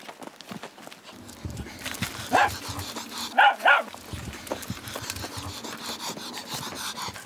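A dog on a five-metre leash during a walk, heard as a few short sharp yaps and bursts of panting and movement over quiet outdoor background.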